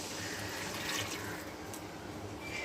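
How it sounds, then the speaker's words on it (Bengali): Hot water pours into simmering masala for Bengali fish kalia in a kitchen pot, a faint continuous watery rush lasting a few seconds. "এবার আমি গরম জলটা অ্যাড করে দিচ্ছি।"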